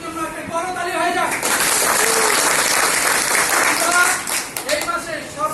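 A crowd at an insurance company unit managers' meeting in Patenga zone claps for the company's CEO, a loud sustained burst of applause lasting several seconds, with voices talking over the start and end.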